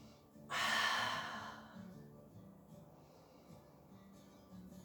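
A single loud, close breath exhaled during a Pilates exercise, sharp at first and then tapering away, followed by quieter room sound.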